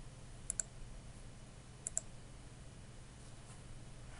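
A computer mouse gives two pairs of soft, close double clicks over a quiet room hum.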